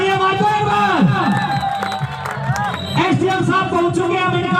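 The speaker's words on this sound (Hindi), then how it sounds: "तालियां मार दो एक बार।" At a village kabaddi match, a crowd cheers and claps in a steady, lively roar, with loud whoops and chatter mixed in as someone speaks over the noise.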